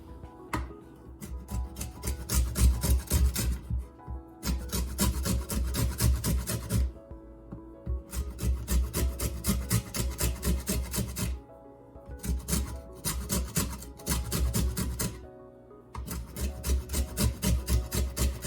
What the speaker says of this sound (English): let's make some lemon zest